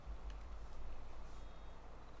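A farm vehicle in Farming Simulator 22 gives a few faint, brief beeps over a low, rumbling engine idle.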